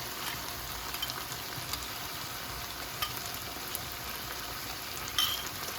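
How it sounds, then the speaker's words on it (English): A soft, constant simmering hiss fills the pot while a spoon occasionally scrapes and taps as chicken stew is stirred. "Now I'm just stirring."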